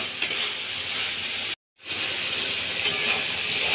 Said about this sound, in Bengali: এই সময় আমি দিয়ে দেবো একটু হাফ বয়েল করে রাখা শাপলাটা, দিয়ে নেড়ে চেড়ে মিশিয়ে দেবো